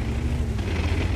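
A heavy, rumbling boom of a tank gun firing in World of Tanks, a thick low-end blast with a rolling tail.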